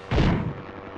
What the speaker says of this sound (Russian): Еще один минометный выстрел.